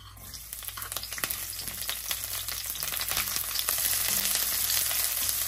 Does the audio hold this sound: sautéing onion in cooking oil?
yes